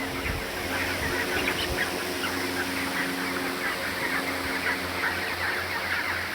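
Broiler chickens in a poultry shed during hot weather give off a continuous chorus of soft clucks and murmurs over a steady background hum, with no speech.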